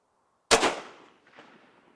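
A single loud, sharp gunshot from an Israeli Mauser battle rifle at a shooting range, with a quick decaying echo after the crack and no talk.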